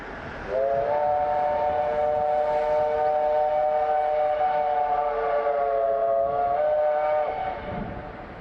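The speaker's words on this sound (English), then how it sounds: "644 takes the train in its stride, passing the Palmerston North Yard on the first shuttle to Fielding" Steam locomotive WW644 on a shuttle run past Palmerston North Yard toward Fielding, New Zealand, sounds a long, loud chime whistle chord for about six seconds over a low rumble of the train.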